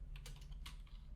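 Quiet clicks of a computer keyboard as code is typed for a Flutter e-commerce app's login API, a few scattered keystrokes over a low steady hum, no talk.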